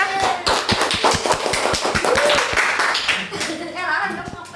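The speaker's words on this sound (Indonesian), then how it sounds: "Tepuk tangan teman-teman semuanya." Classmates in a school classroom clap their hands together, a quick run of sharp overlapping claps near at hand, with a teacher's voice and children's chatter mixed in.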